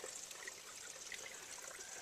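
Very faint spring water trickles out of the ground with a thin, steady hiss and delicate splashing throughout, heard alone.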